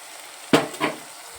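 Soaked sago is tipped into a spiced mixture in a pan, giving one sharp sizzling hiss followed by a second, softer stir-scrape, then quiet.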